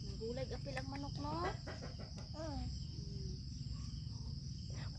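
A chicken clucks and squawks several times nearby, over a constant high insect drone.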